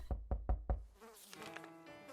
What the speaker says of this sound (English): I thought somebody was knocking on my door